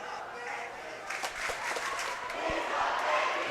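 High school playoff basketball crowd at a Sterling versus Haddonfield game heckling an opposing player at the foul line, a loud rising roar of shouts and jeers in a gym with sharp ball bounces and a commentator speaking over it.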